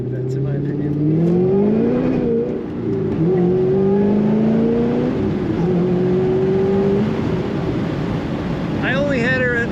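A 2008 Chevrolet Corvette C2 conversion with an LS engine accelerates, its engine note rising through the gears with a steady roar and wind noise.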